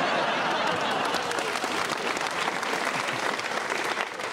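A comedy audience at a live stand-up show bursts into sustained applause, loud and dense throughout, with scattered cheers mixed into the steady clapping.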